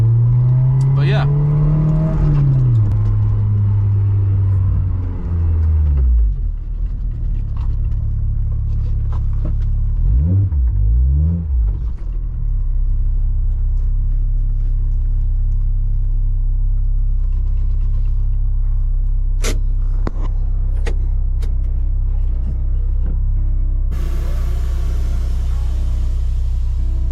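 Honda S2000 driven on the road, starting with a loud engine rev that climbs then falls, followed by a steady low cabin rumble with a brief pitch sweep midway and continuous road noise.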